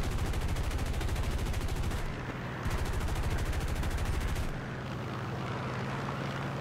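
Rapid, loud machine-gun bursts from aircraft guns in War Thunder, a dense continuous rattle that pauses briefly around two seconds, resumes, then gives way to a steady engine drone.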